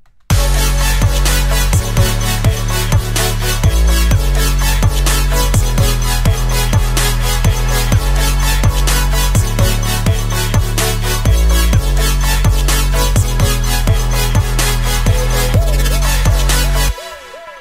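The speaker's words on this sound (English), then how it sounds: "a sort of flumey future bass drop that sounds a bit like this" A loud electronic drop with thick, pulsing saw chords and a heavy pumping bass beat plays for about seventeen seconds, then cuts off abruptly.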